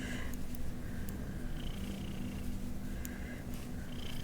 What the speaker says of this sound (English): She has a very nice purr.